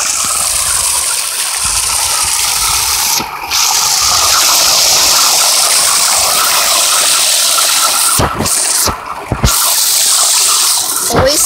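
Loud, steady rush of water gushing from a burst fire hydrant, a continuous roaring spray with a few brief dips, close by and with no talking.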